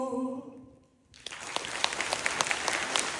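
Applause breaks out from an audience after a Ukrainian cover of a song, rising suddenly out of the song's final held notes into a steady, fairly faint wash of many hands clapping.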